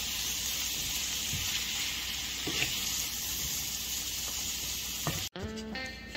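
Baby bella mushrooms fry in a pan for homemade Salisbury steak, a steady close sizzle with occasional stirring scrapes and a sharp clatter near the end.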